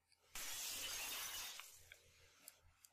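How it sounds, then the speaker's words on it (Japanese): A mirror is smashed with a chair: one sudden loud burst of shattering glass, then trailing tinkles of falling shards fading over a couple of seconds, with no talk. "椅子を手に持つと、力任せに鏡に叩きつけた。"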